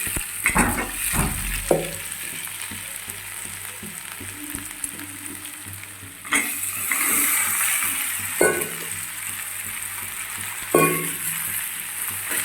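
Tapioca is stirred into sautéed onions in a frying pan, giving repeated scraping strokes and occasional utensil clinks over a steady sizzle throughout.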